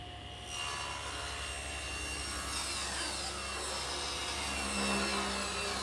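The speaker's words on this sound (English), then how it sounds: "So I've set the saw to remove about 1/8 to 1/4 of an inch" Steady whine of a table saw ripping a thin strip off the rough edge of a board, a continuous hum with a faint rising tone and no pauses.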